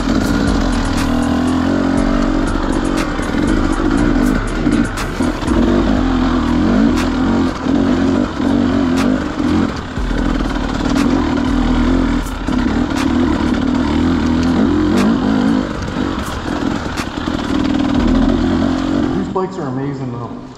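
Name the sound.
dirt bikes riding through mud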